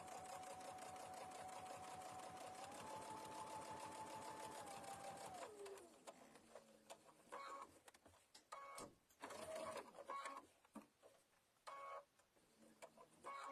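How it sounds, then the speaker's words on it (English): A home sewing machine stitching a mug bag runs steadily at a moderate pace, then slows into short stop-start bursts of stitching as it ties off. "I also like to slow down a little bit because, you know, let's be nice to our sewing machines."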